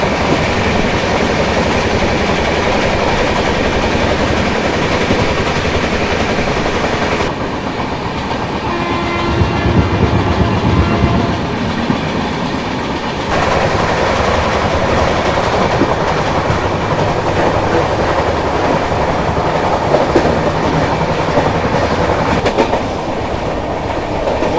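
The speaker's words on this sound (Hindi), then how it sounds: "4:30 बजे हम लोग यहाँ से निकल रहे हैं, अगला स्टॉप अपना है विशाखापट्टनम" The Okha express runs on the rails in Odisha, a loud, steady rumble with rhythmic clickety-clack of wheels over joints, heard close from on board with a continuous roar throughout.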